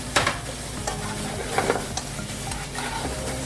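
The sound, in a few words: cooked shrimp sautéing with garlic in a pan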